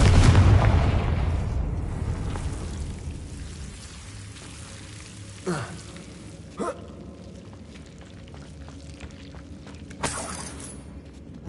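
A Confringo fire spell blasts in Hogwarts Legacy, opening with a loud, deep boom that fades into a low rumble, followed by a few faint, sharp cracks spaced out across the rest of the moment.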